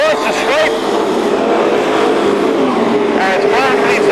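Pro stock race cars roar around Seekonk Speedway, a loud continuous engine drone with rising and falling pitch as cars pass, under a crowd-level wash and an announcer talking throughout.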